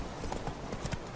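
Hooves of a galloping horse in The Witcher 3, a steady clip-clop rhythm of close, moderate hits over faint ambient game sound, with no talk.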